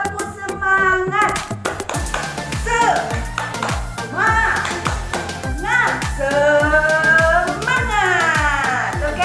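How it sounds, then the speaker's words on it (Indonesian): A class of children follows the teacher in a rhythmic spirit clap, sharp sharp hand claps in a steady patterned beat repeated across the whole stretch, loud and close, with children's voices chanting along over the clapping. "Kita ucapkan yel-yel, kita tepuk semangat."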